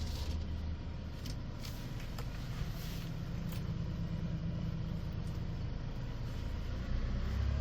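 A 2018 Hyundai Porter 2 Super Cab one-ton truck with an automatic transmission idles steadily, a continuous low engine rumble that stays even throughout with no talking over it.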